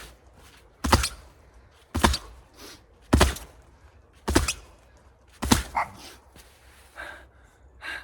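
A dog barks outdoors in winter, five loud sharp barks spaced about a second apart, followed by a couple of softer yips.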